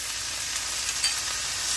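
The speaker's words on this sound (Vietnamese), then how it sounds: "Xào rau mình xào sơ sơ thôi các bạn ơi, xào sơ sơ thôi rồi mới trộn." Vegetables stir-fried briefly in a pan for vegetarian fried noodles, a loud continuous hiss and crackle of hot oil close up, steady throughout with no voices.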